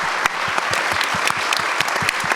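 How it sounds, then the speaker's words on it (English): Audience applause for a panel, a dense, steady patter of many hands clapping close by, continuous and even throughout without cheers or talk. "One more round of applause, please, for our amazing panel."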